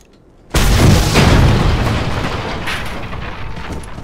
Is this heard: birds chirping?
no